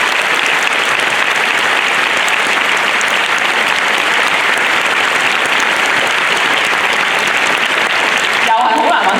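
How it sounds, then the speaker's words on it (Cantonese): Sustained applause from an audience honoring a corporate volunteer team for their handmade knitted flowers, steady dense clapping filling the whole stretch, cutting off sharply near the end. "咁希望大家可以俾啲掌聲呢班義工。"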